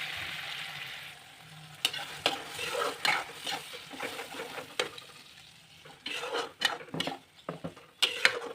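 A spinach mixture for palak paneer fries in a pan over low heat, giving a soft, steady sizzle broken by repeated spatula scrapes and clinks against the pan, close by with no talking.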